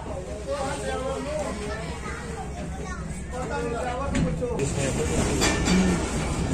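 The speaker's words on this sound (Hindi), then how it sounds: "सो अब आफ्टर क्लियरेंशन हमारी जो गाड़ी है वो दोबारा से चल पड़ी है।" A passenger train on the line toward Multan via Khanewal moves off again after an emergency stop, with a steady rolling rumble and rattle of the carriages while voices talk over it.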